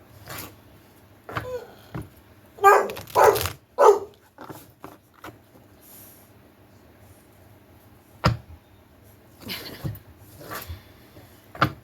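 A female pet dog barks indoors in scattered loud bursts, a cluster of three close barks followed by softer yelps and a few later isolated barks, with quiet room noise between.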